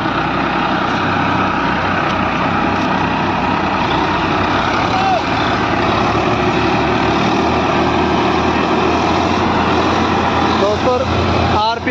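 Massey Ferguson 8055 and 245 tractors running together in low gears, a loud continuous diesel drone with steady rumbling and a passing swell, while someone talks over it.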